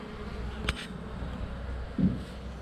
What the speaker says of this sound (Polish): pszczoły latają